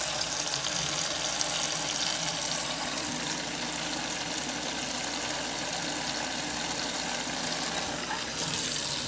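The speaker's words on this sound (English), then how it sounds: "Let some of this water out." A kitchen sink runs and drains with a loud, steady rush of water for about nine seconds, close by and continuous with no voices over it.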